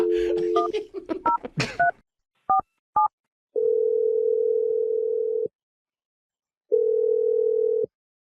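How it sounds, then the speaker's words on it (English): A telephone plays a rapid string of dialing tones, then a steady tone sounds twice in long even bursts separated by silence, close and clear. "Dial the number."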